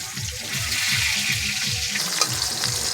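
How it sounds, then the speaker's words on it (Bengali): Pangas fish frying in oil in a pan, a steady close sizzle and crackle with a low rhythmic pulsing underneath, no voices. "ভালো করে দু পিঠ ভাজা হয়ে গেছে"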